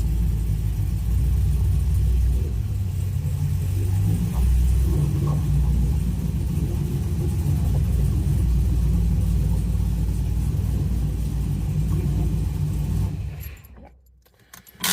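A Nissan car engine with a CD009 transmission idles with a steady low rumble for several seconds, some faint clinking, then cuts off abruptly near the end, leaving near silence.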